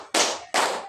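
Two sharp hand claps, close and crisp, spaced about half a second apart as a group claps on a count during a class at an Islamic boarding school.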